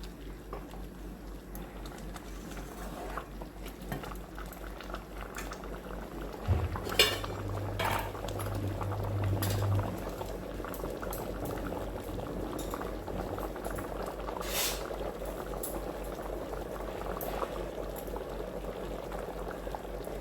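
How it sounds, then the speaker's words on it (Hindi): Raw mango chutney bubbles and simmers steadily in a pan on a high flame, a continuous close sizzle with a brief low hum and occasional clinks of a spoon or utensil. "इस तरह से आम धीरे धीरे पक रहा है।"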